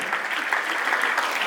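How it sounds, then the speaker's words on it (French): Mourners at a memorial tribute in Kinshasa for Remy Makenga Kabunda break into applause: a short, dense, even wash of many hands clapping, fairly close and with no speech above it. "Applaudissez s'il vous plaît."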